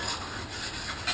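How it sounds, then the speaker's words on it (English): A sharpening stone rubbing lightly over a 4L60E transmission part to remove burrs and leftover gasket material gives a steady, soft, even scraping rasp. "I have a sharpening stone, which I use, and I lightly make sure there's no burrs and take off any excess gasket material"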